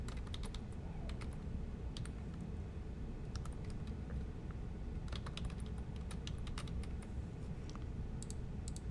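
Someone types on a computer keyboard while entering data into a spreadsheet, with quiet, scattered key clicks in short bursts over a low background hum.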